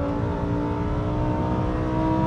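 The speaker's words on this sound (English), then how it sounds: "The engine is magnificent." Lamborghini Huracan Performante V10 engine pulling hard on a race track at Knock Hill, a steady loud whining drone heard from inside the car without talk.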